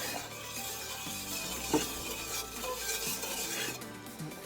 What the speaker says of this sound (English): I'll get a spoon, stir it up a little bit